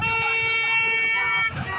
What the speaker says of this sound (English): People honking in agreement.